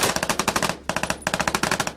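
Machine gun fire in combat in Afghanistan, rapid bursts of closely spaced shots, loud and near, broken by a brief pause before firing resumes.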